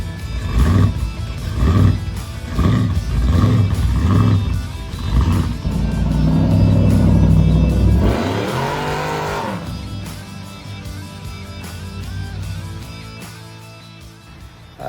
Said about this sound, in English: That's my 1969 Chevelle in the background there.